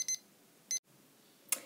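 A kitchen-style timer beeps in short, bright bursts, two quick pulses followed by a third after a pause, fairly faint in a quiet room.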